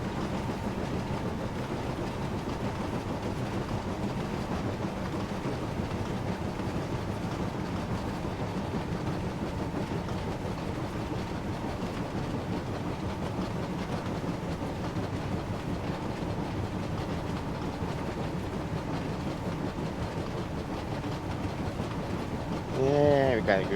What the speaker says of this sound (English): James brakes a lot easier with the mail train than he did with his coaches